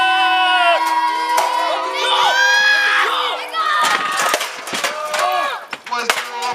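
Crowd at a live professional wrestling show roaring and cheering loudly and steadily, with shouts and whistles on top, swelling then breaking into rougher bursts of noise.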